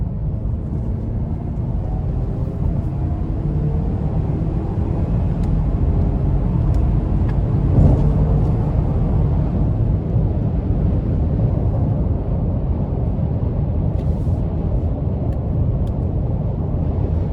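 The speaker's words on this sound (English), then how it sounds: "let's give it some throttle" A 2024 Ford Edge ST-Line accelerating hard in sport mode, with a steady, loud engine roar and road rumble throughout and no speech.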